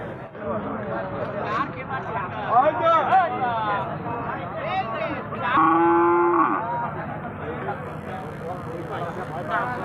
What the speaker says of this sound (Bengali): প্রিয় দর্শক দেখছেন এখানে কিন্তু গাভী রয়েছে